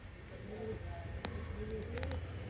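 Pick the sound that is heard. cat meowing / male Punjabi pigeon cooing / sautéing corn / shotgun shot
male Punjabi pigeon cooing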